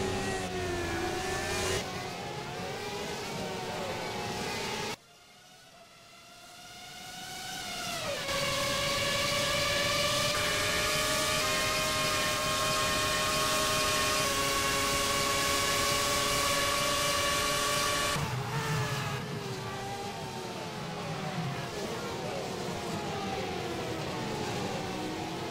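Formula V8 race cars at the Brazil circuit, with engine roar rising and falling, sustained high revving whine and pitch shifts as cars accelerate and pass, loud throughout with a brief quieter dip early on.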